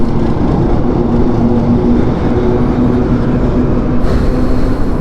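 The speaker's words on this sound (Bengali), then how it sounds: "ট্রেন যাইতেছে" A train runs through a rail crossing on a road in Modhupur, Tangail, giving a steady, loud rumble that holds for the whole stretch, with traffic noise mixed in.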